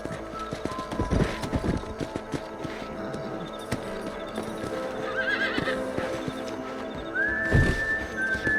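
A horse in the Red Dead Redemption video game whinnies loudly and clearly, with steady hoofbeat clip-clop and thuds running through the whole stretch, close and up front.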